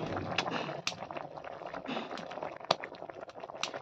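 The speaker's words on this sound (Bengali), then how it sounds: "দেখতে পাচ্ছেন সবজিটা কিভাবে টকবক করছে।" A pot of vegetable curry with eggs simmering on a home stove, giving soft continuous bubbling and popping close by, with occasional small clicks and no talk.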